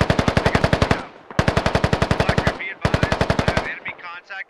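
Automatic rifle fire in the tactical shooter game Squad comes in three rapid sustained bursts separated by short pauses, loud and close, with faint radio-like chatter at the end.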